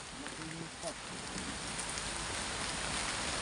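Rain falls steadily outdoors at night, a close, loud, continuous broadband wash with faint voices buried beneath it.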